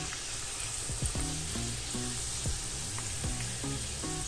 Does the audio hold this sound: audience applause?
no